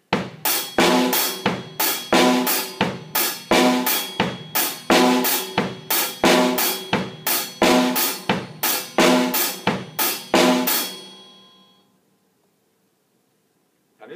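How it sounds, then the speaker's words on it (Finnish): Drum kit playing a simple disco beat, steady rhythmic kick, snare and hi-hat strokes sounding close and loud for about eleven seconds before ringing out into silence. "Sitten voidaankin opetella seuraava komppi, jota mä kutsun helpoksi diskokompiksi."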